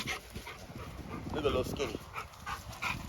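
Giant bully puppies pant and snuffle nearby in short uneven bursts, while someone talks over them.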